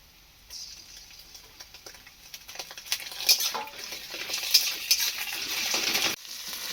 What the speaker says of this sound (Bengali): পেঁয়াজটা লাল লাল করে ভাজা হয়ে গেছে, এবারে দিয়ে দেবো আদা রসুনের বাটা